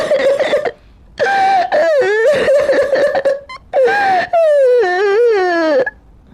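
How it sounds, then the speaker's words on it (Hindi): A cartoon character cries and wails in a forest, with sobbing, moaning bursts in rising and falling pitch, loud and close, broken by short pauses. "उसे रोने की आवाज आती है।"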